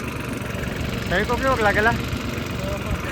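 A tractor on a farm with a mango orchard idles with a steady, low chugging rumble throughout, a person speaking briefly over it midway.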